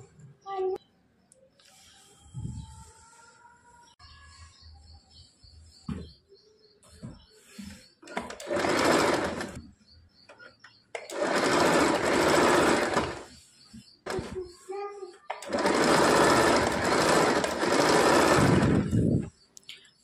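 A sewing machine stitches a katori blouse, joining the yoke strip with a double stitch; several loud whirring bursts of rapid stitching alternate with short pauses and soft handling sounds.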